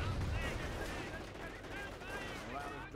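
Rapid gunfire from an aircraft strafing run rattles in a World War II-style strategy video game, dense bursts of shots heard fairly quietly alongside other battle sounds.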